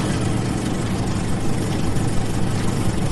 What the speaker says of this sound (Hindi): तभी संग्राम सिंह से कार स्टार्ट हो गई